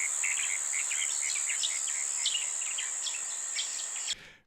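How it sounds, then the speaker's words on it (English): Ambient night layer for an animated film: a steady high cricket drone with repeated chirping bird calls over it, continuous and even, cutting off abruptly near the end. "Crickets. Birds. Frogs. More birds. And all together."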